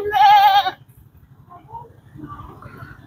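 A goat on a farm lets out one loud, quavering bleat up close, followed by fainter distant bleats and low rustling background sounds.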